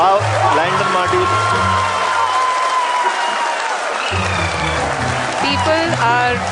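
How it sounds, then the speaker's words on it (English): An audience applauds steadily at an ISRO space mission event, with dense clapping throughout the scene, while voices speak over it at the start and end. "People are applauding."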